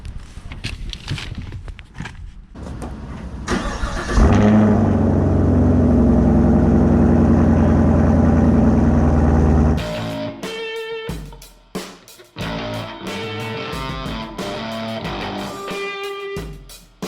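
A 2019 Chevrolet Camaro's engine catches after a few clicks and bumps, then holds a loud, steady low rumble for about six seconds as the car pulls out. Rhythmic music with sharp beats follows.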